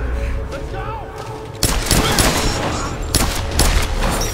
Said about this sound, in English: I have a machine gun now.